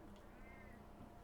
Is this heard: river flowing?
no